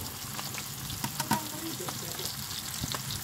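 Steady, close sizzling and crackling of watery fish frying in a hot pan, with occasional sharper pops and a faint stirring scrape.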